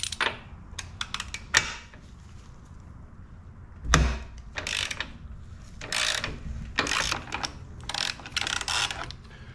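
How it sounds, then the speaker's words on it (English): Ratcheting wrench clicks while loosening a motorcycle's rear axle nut during a chain adjustment, with quick bursts of metallic ratchet clicks in several separate runs and a louder clack near the middle. "Step one, loosen your axle nut."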